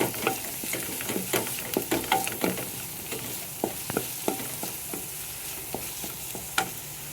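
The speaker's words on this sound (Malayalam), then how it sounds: "ഞാനത് മിക്സ് ചെയ്ത് കൊടുക്കണം." Curry leaves fry and sizzle in a pan while being stirred, with a steady crackling hiss and repeated scraping clacks of the spoon against the pan, close and moderately loud, no talking.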